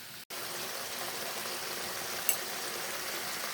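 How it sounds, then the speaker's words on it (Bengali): Pabda fish in mustard paste simmering over medium heat, a steady, soft bubbling hiss that runs evenly throughout, broken only by one brief dropout near the start. "এখন মিডিয়াম আঁচে প্রায় 10 মিনিটের মতো ফুটিয়ে নেব।"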